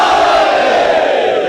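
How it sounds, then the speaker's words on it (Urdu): A large gathered crowd chants Nara-e-Haidari with raised hands at a religious majlis gathering, a loud, dense, sustained roar of many voices filling the whole short moment. "ان کی طرف سے آخری آدمی تک ہاتھ اٹھا کے نعرہ حیدری"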